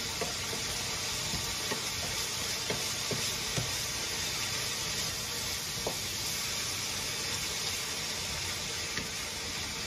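Sausage and vegetables frying in a pan for egg roll in a bowl, a steady close sizzle running throughout with faint stirring clicks and no talk.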